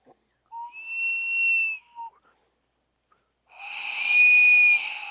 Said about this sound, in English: This is the bear whistle.